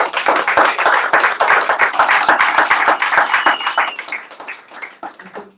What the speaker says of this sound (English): People have been waiting to applaud you for a while.